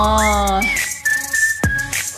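A clear, close human whistle glides upward and then holds a bright sustained tone, with a short sharp click near the end.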